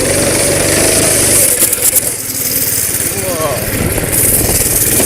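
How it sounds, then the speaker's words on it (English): A Honda kart engine idles and then revs as the throttle pedal is pressed to the floor, its loud close buzz surging and wavering, with a voice speaking over it. "if I put my foot to the floor"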